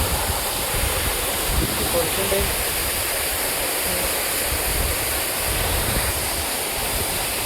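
A jungle waterfall pours steadily as a dense, unbroken rush of water, loud and close, with a brief spoken word over it.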